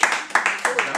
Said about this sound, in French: Mais on applaudit très fort Jean-Claude.